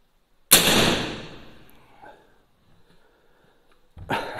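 A PCP air rifle with a 12-inch smoothbore barrel fires 9mm lead pellets on a cylinder charged to 240 bar: one loud, sharp crack with a long fading ring, then a second shot cut off at the end.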